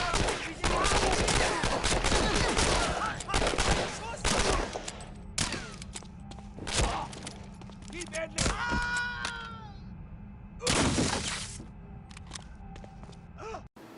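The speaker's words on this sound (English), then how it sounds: "Three scientists in lab coats are shooting at me." Gunfire rings out in Medal of Honor: Allied Assault as scientists in lab coats shoot, with bursts of loud, close shots and rapid volleys that thin out into scattered single shots and pauses.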